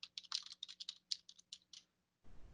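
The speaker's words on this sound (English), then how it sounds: "if you just hit enter and just start typing" Typing on a computer keyboard, a quick run of about a dozen crisp key clicks in an irregular rhythm, close and clear, then a pause before a soft burst of noise.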